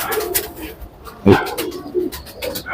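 Allahabadi pigeons kept at a house in Jaipur give soft, low cooing calls, with one fuller coo standing out amid a murmur of nearby birds and faint background noise.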